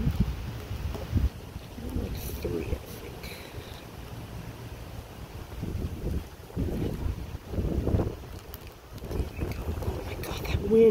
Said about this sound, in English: that wind is so cold and is so tenacious